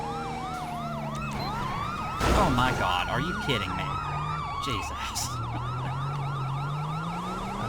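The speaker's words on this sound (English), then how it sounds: "y'all are blaring sirens and just going every which way" Police sirens blaring during a chase in GTA 5, several wailing and yelping sirens overlapping loudly and continuously, with a brief louder surge of engine and crash noise midway and a man exclaiming over them.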